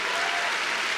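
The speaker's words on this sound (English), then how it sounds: "please, a round of applause." Steady, dense applause from an audience at a Star Wars Celebration Anaheim panel, many hands clapping together at full strength for the whole second.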